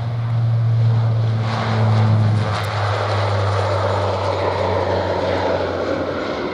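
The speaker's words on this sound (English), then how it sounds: "Is that Flybe about to take off?" A Flybe airliner at London Stansted Airport powering up for takeoff, a loud steady roar of engines with a droning tonal hum, heard from a distance with no talk.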